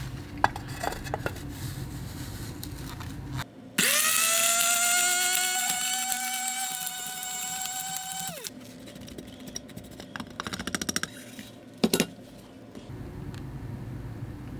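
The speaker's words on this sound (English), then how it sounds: "We're actually going to bring out a coffee grinder." Close electric coffee grinder grinding black powder ingredients whirs for about five seconds with a rising pitch that then holds steady, between quieter clinks and rustles.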